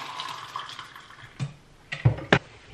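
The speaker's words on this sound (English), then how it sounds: "And then just add some hot water" Hot water poured into a mug while making a keto drink: a faint, quiet stream of pouring, followed by a few short, louder knocks and clinks near the end.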